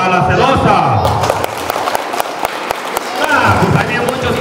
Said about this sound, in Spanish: Un aplauso para la celosa